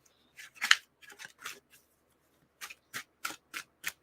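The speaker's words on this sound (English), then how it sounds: "And shuffling cards." Tarot cards being shuffled in short riffling bursts, a cluster early on, a pause, then five evenly spaced crisp riffles, close and fairly quiet with no talking.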